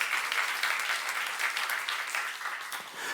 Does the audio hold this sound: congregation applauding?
yes